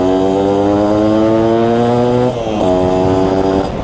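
A Yamaha F1ZR two-stroke motorcycle engine revs hard under acceleration, a loud buzzing whine climbing in pitch, briefly dipping as it shifts near the middle, then pulling up again, steady and close throughout.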